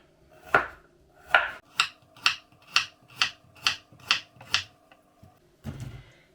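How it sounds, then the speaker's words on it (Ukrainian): Carrot being sliced into rings on a board: a rhythmic series of about nine crisp knife chops, evenly spaced and close, followed by a short scraping sound at the end, with no talking. "Також моркву наріжу кільцями."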